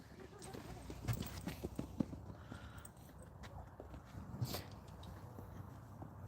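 Rescue horses cantering, soft hoof thuds spaced irregularly at moderate distance against a quiet outdoor background, with a person talking now and then.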